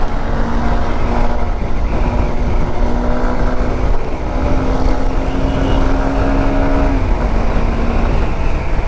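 A Honda SP 160 motorcycle revs hard during a power test, its engine a loud, steady drone with one sustained tone that climbs slightly, holds for about seven seconds, then drops back.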